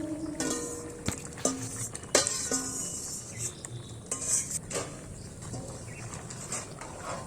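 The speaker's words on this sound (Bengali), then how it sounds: "এবার এর মধ্যে সেই ভেজে রাখা ক্যাপসিকামগুলো দিয়ে দিন" Fried capsicum is tipped into a pan and stirred for a vegetarian paneer dish: a spoon clatters and scrapes against the metal in uneven strokes over a faint sizzle, close and fairly quiet, with no speech.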